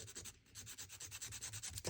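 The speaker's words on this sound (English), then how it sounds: "I can fit a sander in there" A small sander works quietly against the dashboard of a plastic MPC Charger model car, giving a faint, fast pulsing rasp of rapid even strokes with no voices.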